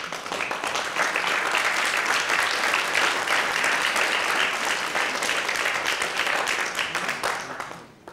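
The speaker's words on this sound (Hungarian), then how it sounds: "Még egy mondatot kellett volna várni a tapssal." Dense, sustained audience applause fills a Modern Magyarország (MoMa) political rally in Hungary, loud and steady for several seconds before tapering off at the end.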